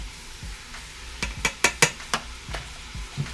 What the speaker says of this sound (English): And we're gonna stir that up.